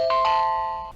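A home security IP camera sounds its doorbell: a bright two-note ding-dong chime that rings out clearly and fades over about a second, with no voices.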